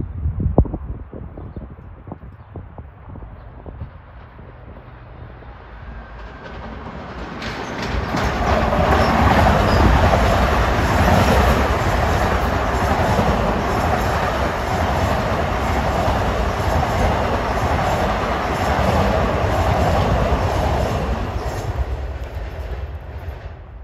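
An LIRR commuter train bound from Penn Station to Ronkonkoma speeds past on track 2 at Elmont, rising from a distant rumble into a loud, steady roar of wheels and clatter that fades slightly at the end.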